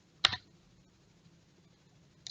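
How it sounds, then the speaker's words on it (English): A single sharp key click on a computer keyboard rings out clearly near the start, followed by quiet background and a fainter click at the end. "you press the return key on your keyboard"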